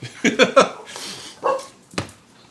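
Small dogs underfoot during a Halloween livestream give a quick burst of several close yips and barks, followed by a couple of further sharp barks after a short pause.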